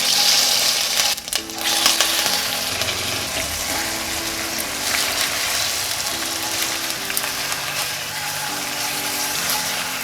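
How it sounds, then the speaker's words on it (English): Oil and rock sugar sizzling in a Dutch oven as the sugar melts into caramel, a steady bubbling hiss, close and continuous under faint background music, with one brief clatter near the start. "I added in some oil and half of my rock sugar. We're going to melt the rock sugar and make a caramel"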